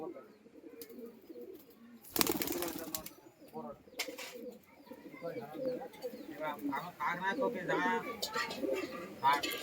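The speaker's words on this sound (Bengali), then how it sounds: "এই যে পায়রাটা দেখুন এটা রামপুরীর সাথে আর ট্যাডির সাথে মানে ক্রস করা আছে" Andra pigeons, a cross of Rampuri and Tedi breeds, coo repeatedly at close range, with a sharp burst of flapping or handling noise early on, while someone talks over the birds throughout.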